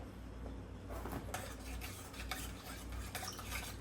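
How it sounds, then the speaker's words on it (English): Homemade fresh marinara pasta sauce being stirred in a pot, giving a steady, close wet churning with light scraping and clinking of a utensil against the pot, with no talking. "We'll just start mixing it around so it's kind of like distributed better."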